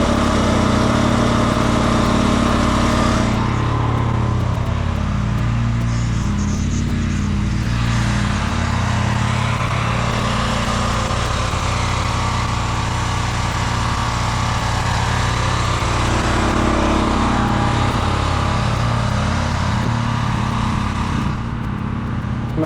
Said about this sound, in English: Use a leaf blower too.